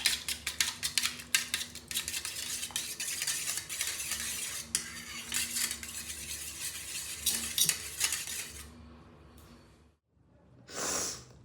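A spoon clinks and scrapes steadily in a bowl as Navaratna, almond and olive oils are mixed together, close and fairly quiet, then stops, with a brief soft rustle near the end.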